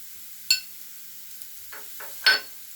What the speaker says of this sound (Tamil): ஃப்ரைங்கில் பண்ணிகிட்டே இருக்கோம் தொடர்ந்து.